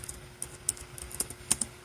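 Light, quick keystrokes tap on a computer keyboard in an irregular patter of soft clicks, quiet and close, with no talking.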